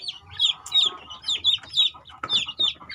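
A mother hen and her chicks call inside a simple breeding cage, with high-pitched chick peeps repeating in a quick, regular series over lower clucking, close and clear.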